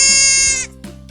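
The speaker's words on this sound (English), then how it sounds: "Deer make a soft bleating sound like this." A deer gives a bleat, a loud, buzzy, nasal cry that holds steady for over half a second and then cuts off, followed by two fainter short breathy sounds.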